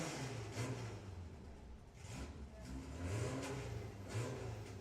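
A White Label Motorsport drag racing car accelerates at a Volkswagen drag racing event, its engine revving in repeated surges, fairly distant and muffled, over an open-air background.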